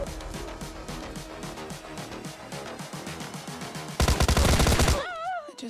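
Bot gunfire in a battle royale video game, a steady rattle of rapid shots over game music, swelling into a loud, harsh burst before breaking off abruptly.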